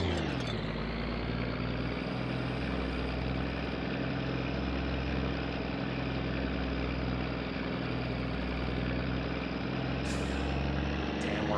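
Heavy truck engine in My Summer Car roaring steadily at full throttle, a loud continuous drone with stacked harmonics that holds throughout, with a brief hiss near the end.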